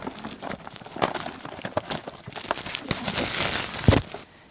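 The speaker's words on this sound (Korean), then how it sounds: "일단 컵라면에 겉봉투를 뜯어주세요. 비닐을 뜯어주시면 돼요." Plastic outer wrapper being torn and peeled off a cup of instant ramen, a close, busy run of crinkling and tearing that builds toward a loud rip near the end.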